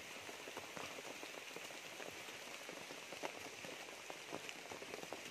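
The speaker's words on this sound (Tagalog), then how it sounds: "Naulan." Rain falls steadily on a farm, a dense, even hiss of drops striking surfaces that continues unbroken throughout, soft and close with no voices.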